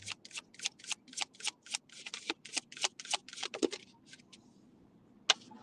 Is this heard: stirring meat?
no